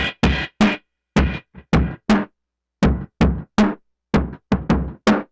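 A drum loop runs through a lo-fi distortion plugin with high-pass and low-pass EQ, giving short, thin, crunchy hits in a choppy rhythm separated by clean silences, loud and alone.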